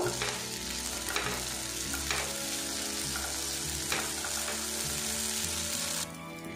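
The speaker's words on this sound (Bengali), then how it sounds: "সাবুটা ঘিয়ের সাথে একটু নাড়াচাড়া করে নেব।" Soaked sago being stirred while frying in ghee, a loud, steady sizzle with periodic scraping strokes of a spatula against the pan, continuous and close.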